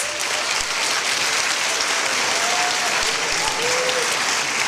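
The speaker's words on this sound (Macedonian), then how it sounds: "Ајде, еден најголем аплауз." Dense, steady applause from a large crowd at a school ceremony fills the whole stretch, loud and continuous, with a few faint voices calling out over it.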